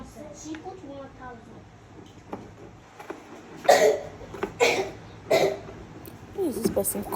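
Several sharp coughs and throat-clearing bursts from a person nearby, spaced a second or so apart, over low kitchen background noise.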